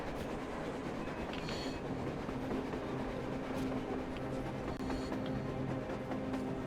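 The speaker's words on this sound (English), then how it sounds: "A train! A damn train on the surface!" A train rumbles past steadily in the post-apocalyptic shooter Metro Exodus, a continuous low mechanical roar with rhythmic clickety-clack of wheels and faint metallic squeals, with no talk.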